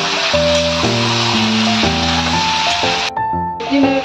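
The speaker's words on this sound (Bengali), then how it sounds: "চিকেনটা এরকমই ভেজে নিতে হবে।" Loud, continuous sizzling hiss of chicken frying in a pan fills the clip, with a tonal hum and background music layered over it.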